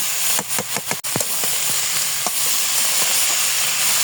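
Onion, green chilli and vegetables frying in a pan, a steady close hiss of sizzling oil broken by several sharp scraping clicks of stirring early on, then softer scattered taps.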